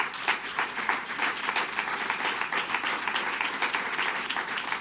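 Sustained, dense applause from a room audience honoring first responders at a mayor's press conference for a city festival, steady and fairly loud throughout with no talk over it.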